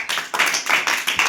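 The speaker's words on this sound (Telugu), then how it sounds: "మిగిలిన వాళ్ళు చప్పట్లు కొట్టండి." Children clap their hands in a quick, even rhythm, about six sharp claps close by, with no talking.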